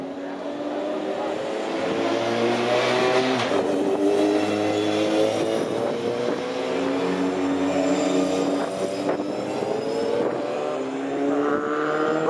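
A Formula 4 race car on a test day at Snetterton drives at speed with a steady, buzzing engine note that rises and shifts in pitch, heard from a distance without talk.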